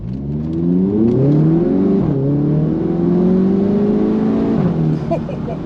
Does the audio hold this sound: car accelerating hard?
yes